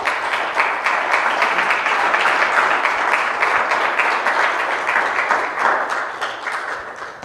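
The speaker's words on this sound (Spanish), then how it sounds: "Dale un aplauso a Dios, porque Dios es bueno." Congregation at a Spanish-language church service gives sustained, loud applause, a thick continuous wash of many hands clapping together for several seconds with no voices over it.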